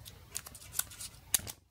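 Plastic wrap being peeled off an 18650 Li-ion cell, heard as a short run of close crinkly crackles and sharp ticks that stop abruptly after a second and a half, with no voices.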